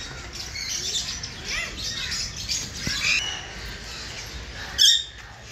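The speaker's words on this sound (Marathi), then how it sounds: "आवाज आला पोपटचा." A parrot at a zoo gives a sharp squawk near the end, preceded by faint chirps and bird calls over a murmuring outdoor background.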